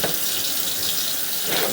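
Water runs steadily through a drain line in a long-vacant house, a continuous close rushing wash with no pauses and no voices.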